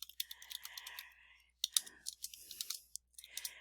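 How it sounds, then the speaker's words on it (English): Quick bursts of close, faint keystrokes on a computer keyboard, with short pauses between words, as a name is typed into a document. "so I'll just type my name"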